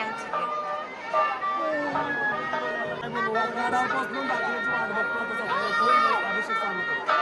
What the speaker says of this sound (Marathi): आपण आलो जेजुरी आणि गर्दी बघा गाईज किती खूप आहे जास्त गर्दी आहे